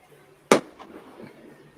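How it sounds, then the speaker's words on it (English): A single sharp firework bang goes off outdoors, loud and abrupt, followed by a faint echo and quiet background. "somebody lit off a firework"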